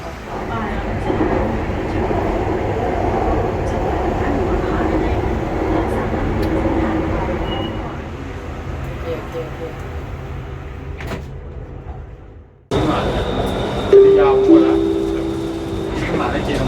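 An underground metro train at a deep Bangkok station rumbles steadily, then goes quiet before door and platform sounds and a chime-like tone follow; someone talks over it.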